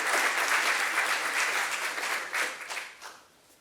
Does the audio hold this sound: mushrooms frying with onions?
no